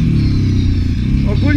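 A Kawasaki 700 quad engine rumbles loudly and steadily close by, with a low, throbbing idle and a brief clattering rise near the end.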